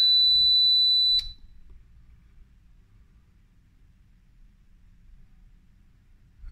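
A piercing high-pitched electronic buzzer tone from an ESP Mag 4 fire alarm control panel sounds steadily for about a second, then cuts off, leaving a low hum.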